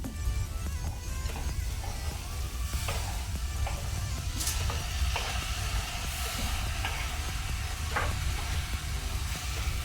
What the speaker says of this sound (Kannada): ಟೊಮ್ಯಾಟೊ ಒಳ್ಳೆ ರೀತಿ ಫ್ರೈ ಆಗಿದೆ